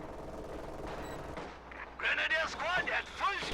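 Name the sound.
gunfire and artillery in a Company of Heroes-style video game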